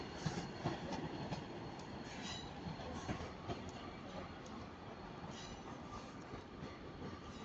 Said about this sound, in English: Very packed train. That's working the 1010 Northern Service to Chester.